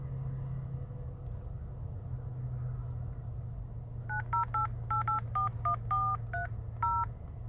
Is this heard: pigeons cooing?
no